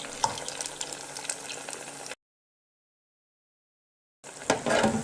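Food fries in hot oil with a steady crackling sizzle, cut by a couple of seconds of silence, then returning louder as fresh pieces are lowered close to the oil's surface and bubble up vigorously.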